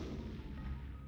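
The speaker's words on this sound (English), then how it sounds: "Bombette, blow the wall up." Bombette blasts a wall in Paper Mario 64, a short, dense, low booming burst that fills the whole moment at steady loudness.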